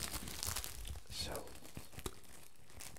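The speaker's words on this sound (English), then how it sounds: "I'm just gonna be doing crinkly sounds for now." Crinkly, tearing handling sounds from a sponge being squeezed and rubbed close to the mic in an ASMR setting, with soft irregular bursts of crackle and a few sharper crunches, plus faint speech.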